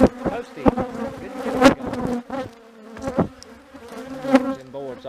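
Honey bee colony buzzing steadily at close range, mixed with loud intermittent knocks and scraping as boards are pried off a structure during bee removal.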